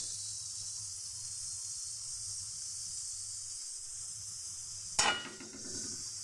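Oil heating in a kadai wok before vegetables are cooked, giving a faint, steady hiss that erupts into one sharp sizzling burst near the end.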